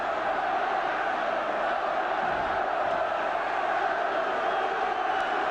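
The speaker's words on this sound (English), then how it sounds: "there's some crowd trouble in the corner of the ground at the Roker end" A 1977 Sunderland versus Spurs football crowd, with trouble breaking out at the Roker end, produces a steady massed roar and chanting throughout, broad and unbroken, with no clear speech on top.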